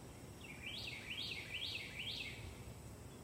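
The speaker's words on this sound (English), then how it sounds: "You just hear birds, right?" A bird sings in a quiet backyard, four quick repeated chirping phrases at moderate distance over a soft steady background hush.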